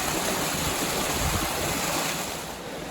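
Water pours over the gates of the Bunbury staircase locks on a canal, making a steady, fairly quiet rushing wash like a small waterfall, heard alone without any voices.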